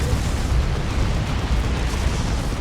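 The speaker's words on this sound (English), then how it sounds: "Tank Buster Barrage as a orbital bombardment from Zeno." Orbital bombardment barrage in the strategy game Dawn of War 2, a dense, continuous rumble of heavy explosions and booms rolling together at steady loudness with no clear gaps.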